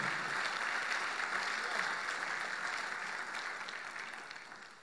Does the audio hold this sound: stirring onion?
no